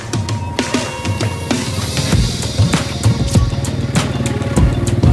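A Honda Wave motorcycle fitted with a family service sidecar drives back and forth close by, its steady engine drone rising and falling in pitch with intermittent clicks and clatter throughout.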